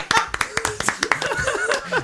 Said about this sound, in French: J'étais en train d'applaudir.